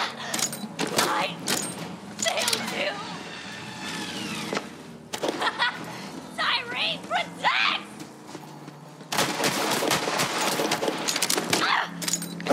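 Guns firing in Borderlands 3, heard as sharp, loud bursts of shots and impacts that come in clusters, mixed with game effects and someone talking over them.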